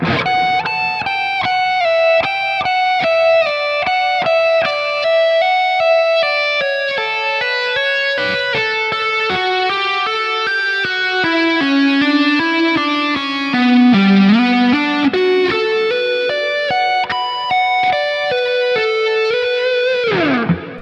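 A distorted electric guitar plays a slow melodic lick, sustained notes bending and sliding, alone and fairly loud.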